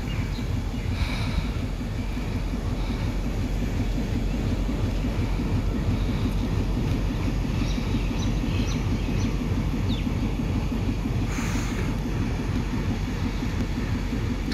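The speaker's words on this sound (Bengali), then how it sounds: "এখানে কোনো ট্রেনের ক্রসিংয়ের জন্য দাঁড়িয়েছে" A Sirajganj Express intercity train standing at a station for a crossing at dusk, its engine giving a steady low idling drone throughout, with faint birdsong and distant sounds above it.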